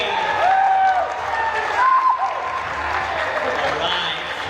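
A crowd applauds and cheers for two amateur volleyball teams, Team Barkada and Team Kabayan, at a community league event, with dense clapping under an amplified voice and some rising whoops, then tapering slightly.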